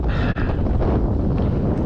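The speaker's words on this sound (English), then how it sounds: "Now it's down to 15 and it keeps gusting." Strong, gusting wind batters the microphone at an RC flying field, producing a loud, continuous rumbling roar with a brief dip in the middle.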